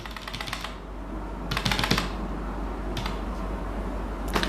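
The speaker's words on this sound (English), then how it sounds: "I need to type Pro here" A computer keyboard being typed on while entering product details, short bursts of rapid clicking keystrokes separated by pauses, close and clear over a low steady background hum.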